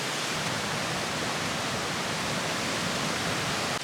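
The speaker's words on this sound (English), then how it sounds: "Oh, that wind!" Strong wind buffeting across an exposed hilltop on a blustery July day, a loud, continuous roaring rush with no let-up and no voices.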